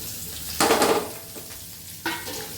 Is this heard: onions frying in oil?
yes